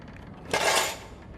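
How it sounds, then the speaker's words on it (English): Skillet and cookware in The Long Dark being picked up: a single short metallic clatter of pans, fairly close, lasting about half a second. "The skillet."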